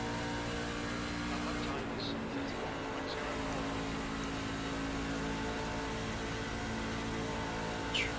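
A NASCAR Class C truck engine in a racing video game holds a steady, droning hum at a constant pitch throughout, with someone talking over it.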